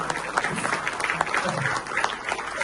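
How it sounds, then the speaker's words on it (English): An audience claps steadily throughout, a dense patter of applause with a few voices mixed in. "Cafe, give yourself a round of applause."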